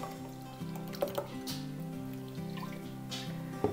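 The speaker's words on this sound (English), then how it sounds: "And I'm gonna pour this into my soup." Sour rye starter is poured into a pot of Polish żurek soup, making soft liquid splashes and drips over a low, steady background hum, with a few sharper plops along the way.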